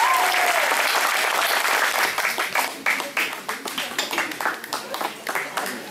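Festival audience at Settembrinu di Tavagna applauding, dense sustained clapping from a crowd that gradually thins into scattered claps, with voices underneath.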